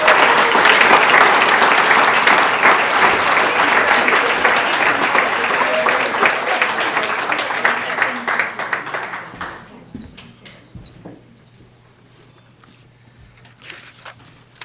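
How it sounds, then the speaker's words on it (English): An audience applauds an award winner at the 2023 Anoka-Hennepin Above & Beyond Awards. Steady, full clapping from a large crowd holds strong for about ten seconds, then thins to scattered claps and fades nearly to silence. "Please join me in a round of applause for Jackie Widener."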